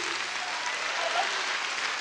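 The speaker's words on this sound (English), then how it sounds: "Let's give these brothers another round of applause." Applause from a crowd at a Nation of Islam gathering in Los Angeles fills the space, a continuous, even roar of clapping heard at a moderate distance with no speech over it.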